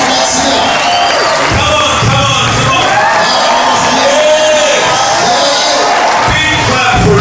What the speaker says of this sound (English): And now a big clap for Jesus Christ.